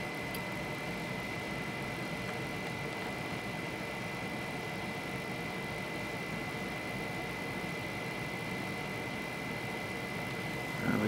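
An electrostatically powered magnetic levitation motor running at extreme high voltage gives a steady broadband hum with a constant high whine, faint and unchanging throughout, with no talk.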